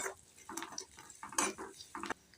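Chopped onion and chillies stirred and scraped around a pan at home, near and close-up, with a run of short utensil clinks and rustles that come and go.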